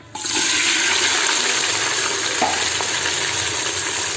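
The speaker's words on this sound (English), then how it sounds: "So let's fry this onion for 1 minute." About 1.5 kg of sliced onions sizzle and fry in hot oil for chicken biryani, a loud, steady hiss filling the whole stretch after the onions drop in, with a faint stir or clink midway.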